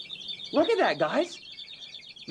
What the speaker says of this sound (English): that is called a rossignol,